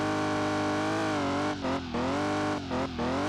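Car engine heard from the in-car view in the Drift King racing game, a loud steady drone with rising and falling pitch, broken by a few brief dips as the revs shift, with no talking.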